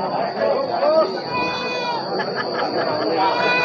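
Javanese goats bleating at a busy livestock market, several calls rising above a constant crowd murmur while people chatter nearby.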